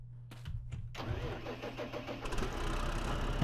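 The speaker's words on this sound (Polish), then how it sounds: "Traktor jak zwykle trochę głośno chodzi." A tractor engine in Farming Simulator 15 starts after a moment of near silence, then settles into a fairly loud, steady mid-pitched running rumble that builds slightly toward the end.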